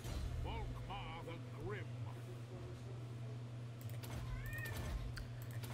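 A small kitten meows indoors, giving several short, rising mews close by, followed by a burst of clattering noise over a low steady hum.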